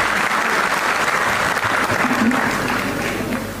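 Thunderous applause from a large audience for delegates gathered from across the country at a Republic Day central ministry event, a dense, sustained roar of clapping that stays loud and steady throughout.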